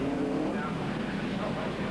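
TVR Tuscan race cars file past on the track at a 1995 Tuscan Challenge race. Their engines make a dense, steady roar at a moderate distance.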